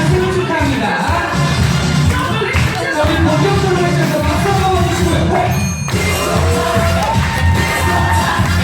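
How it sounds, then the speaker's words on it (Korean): Guests at a first birthday party in a Gimhae party hall applaud and cheer loudly and continuously, with whoops and children's shouts rising over dense, steady clapping. "많은 힘찬 박수와 한번좀 부탁드리고요"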